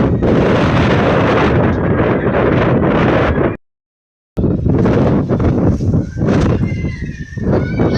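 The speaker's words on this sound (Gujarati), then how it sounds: "આજે તો જો કેટલી બધી હવા ચાલુ છે જો" Strong wind roars and buffets a microphone outdoors near an airport, loud and continuous, with one brief cut-out midway and gusty rustling afterward.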